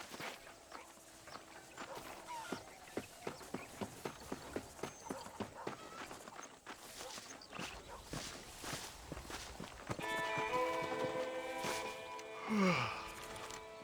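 Horse hooves clip-clop in the Red Dead Redemption video game, a steady walking rhythm of close, crisp hoofbeats over game ambience, later joined by a whinny and musical tones.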